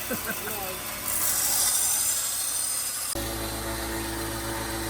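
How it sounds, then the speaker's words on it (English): A knife blade is polished on a leather stropping belt fitted to a Grizzly grinder and loaded with blue jeweler's rouge, giving a close, steady rasping hiss for about two seconds before settling into a lower, even motor hum. "I put a leather stropping belt on the grizzly grinder, and he's using this blue compound. It's jeweler's rouge, and he's polishing that blade with that."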